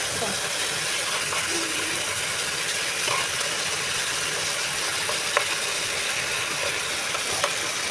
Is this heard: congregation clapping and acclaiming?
no